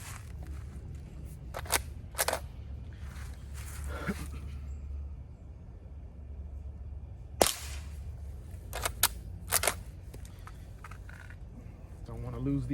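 Sharp shots from an Umarex Legends Cowboy lever-action air rifle firing .177 pellets, several spaced cracks over steady low background hum, with brief talk between shots.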